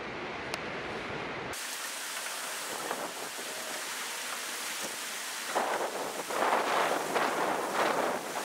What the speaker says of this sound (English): Sun's shining, but it's still raining.